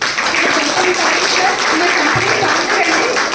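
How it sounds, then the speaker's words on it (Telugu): Audience claps steadily for a company CEO at a business presentation, a dense and loud wash of applause with voices mixed in. "a big round of applause"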